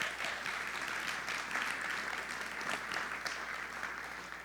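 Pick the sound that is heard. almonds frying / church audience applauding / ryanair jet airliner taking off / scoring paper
church audience applauding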